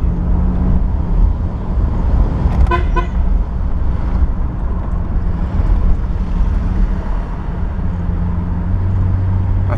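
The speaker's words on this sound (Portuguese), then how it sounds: "talvez ouvir um pouco do ronquinho, mas ele é muito silencioso, muito silencioso." A 1982 Ford Landau with an automatic gearbox runs with a soft, steady low rumble heard from inside the car, and a brief horn toot sounds early on.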